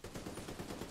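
Rapid automatic gunfire in The Division video game crackles in a dense, continuous burst of close shots lasting under a second.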